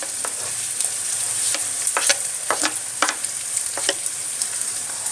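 Shallots fry in hot oil in a pan for a tauco curry, garlic going in next, giving a bright steady hiss punctuated by irregular close spatula taps and scrapes.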